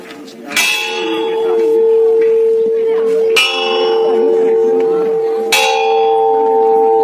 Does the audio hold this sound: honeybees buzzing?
no